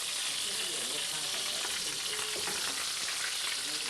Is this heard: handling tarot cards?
no